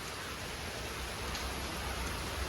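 Steady, dense morning rain falling as a continuous soft hiss of drops on surfaces, even and unbroken throughout with no voices.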